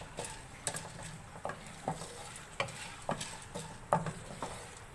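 A spoon stirs chocolate-coated popcorn in a pan over a low flame, giving repeated scraping clicks and light rattles with a faint sizzle underneath, steady and close.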